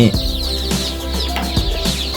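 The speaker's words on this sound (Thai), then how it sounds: "ตัวนี้เป็นชัดเช็คนะครับ แล้วก็ไก่บ้านนะครับ ไก่บ้านเรา เอาเก็บไว้ทำพันธุ์ด้วยนะครับ" Chickens, including free-range native chickens, cluck loudly and repeatedly close by on a poultry farm in Ubon, Thailand, with no talking heard.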